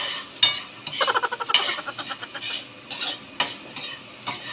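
Unpeeled ginger sizzling and frying in a pan while a utensil stirs and scrapes it in quick rhythmic strokes, close and fairly loud in a home kitchen.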